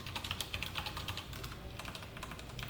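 Rapid keystrokes on a computer keyboard while typing code, a dense, even patter of light clicks, close and continuous with no voice.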